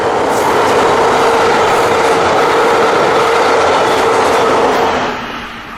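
A bright red Brightline passenger train, BLF 702, passes northbound on the FEC main line in South Florida, a loud, steady rumbling roar of rail and wheels that holds for several seconds and then eases off.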